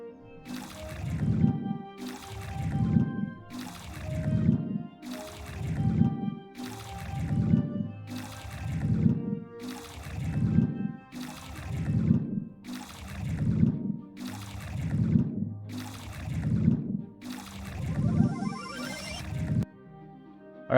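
Game sound effects for absorbing negativity from a character: a repeating absorb-process cue pulses about every 1.5 seconds with low swelling bursts and a hazy upper wash, ending with a brighter sparkle as the absorb-done sound plays.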